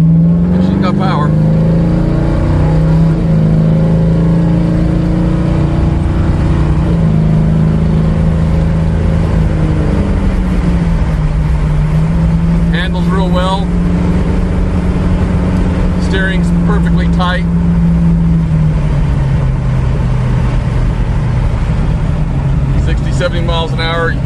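A 1937 Ford five-window coupe with power steering cruising along, its engine a steady droning hum with gentle rises and falls in pitch, loud and continuous under someone talking.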